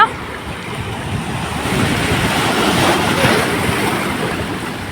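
Loud, continuous roar of ocean surf with wind noise at a beach in Ratnagiri, swelling slightly midway, no voices.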